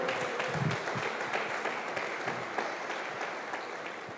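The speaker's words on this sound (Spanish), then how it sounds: "Denles aplauso al Señor." A church congregation at an evening men's gathering breaks into sustained applause, dense steady clapping from many hands filling the room at moderate loudness.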